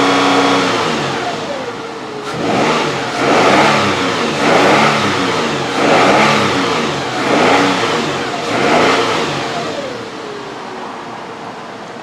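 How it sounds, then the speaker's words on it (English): A car engine with random misfires in cylinders 6 and 4 and a lack of power revs to around 4,000 RPM in a loud, rhythmic series of surging bursts, about five in a row, heard close with no talking. "the cylinder number 6 and number 4 misfire right now"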